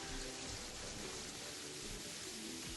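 Steady, dense rain hiss from the video game Terraria, even and unbroken with no distinct drops standing out, fairly quiet and heard on its own.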